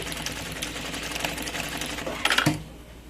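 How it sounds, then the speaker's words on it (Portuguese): A sewing machine stitches a large bag with a fairly steady mechanical whir, ending in a brief louder burst of clatter before fading. "Eu vou costurar aqui por dentro"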